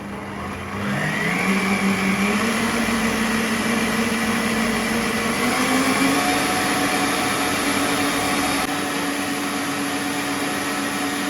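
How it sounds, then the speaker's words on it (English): An electric mixer whirs steadily at top speed through pound cake batter, its motor pitch climbing as it spins up and then holding a continuous, close, loud drone that runs on alone without pause. "Then you can continue mixing at a very top speed."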